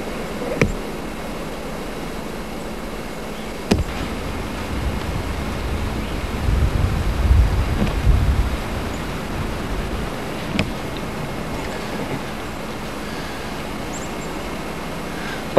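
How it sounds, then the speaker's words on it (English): Wind gusts around an electricity-generating windmill, heard as a steady, soft broadband rush with a low rumbling swell midway and a few faint knocks. "Hear a little wind coming"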